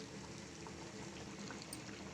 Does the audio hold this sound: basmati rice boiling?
yes